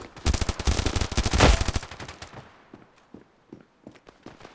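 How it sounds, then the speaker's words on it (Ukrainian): A rapid burst of automatic gunfire in the mobile shooter game Standoff 2, loud and dense for about two seconds, followed by scattered single shots and quieter clicks. "Стріляє по мені хтось"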